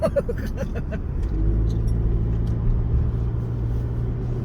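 Steady low car engine rumble from inside a vehicle on the road to Sattahip, continuous and moderately loud throughout with faint voices briefly at the start.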